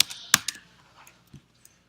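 Keystrokes on a computer keyboard come as a few sharp, close clicks, one louder tap standing out, then sparse lighter presses with quiet gaps between them.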